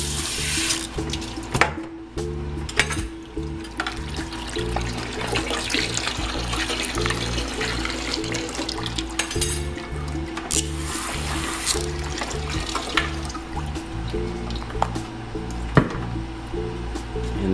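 Steady running water pours and splashes as a soil sample is washed through a stack of sieves, a continuous close rush with occasional sharper knocks and clatter.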